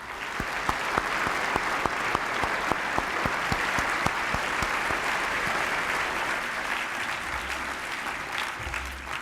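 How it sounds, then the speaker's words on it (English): An audience gives steady, full applause for a distinguished group on stage at a formal event, many hands clapping continuously with a few crisp nearby claps standing out before it slowly eases. "And now a round of applause for this distinguished group"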